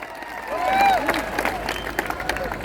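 Audience applause at a Hindi kavi sammelan poetry gathering in Rajnandgaon, with a bright whistle-like cheer near the start and then a steady crowd clatter of claps and voices running to the end.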